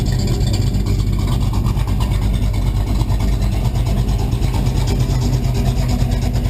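S10 pickup truck engine idling with a lopey, choppy rhythm, a steady loud low rumble with a mechanical ticking pulse running throughout, close up and alone.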